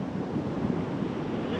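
Steady ocean surf washing onto a beach in a continuous rumbling wash, with wind buffeting the microphone and no speech.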